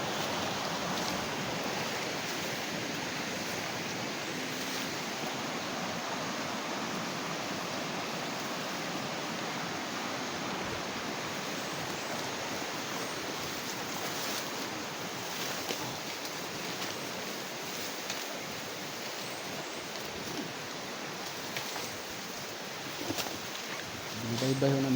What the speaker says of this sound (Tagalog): Binibay-bay ho namin yung Sapa.